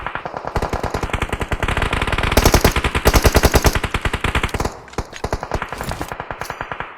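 Rapid automatic gunfire in a team shooter video game, long loud bursts of closely spaced shots that run almost without pause, with a brief gap before firing resumes.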